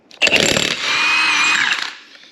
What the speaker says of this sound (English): we're going to go and use our old 1/2-inch drive Milwaukee here.